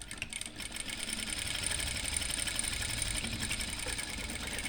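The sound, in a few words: sewing machine stitching a petticoat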